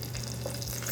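Hot oil that capers were fried in hisses briefly as it is poured into a lime-juice dressing, a short steady sizzle up close.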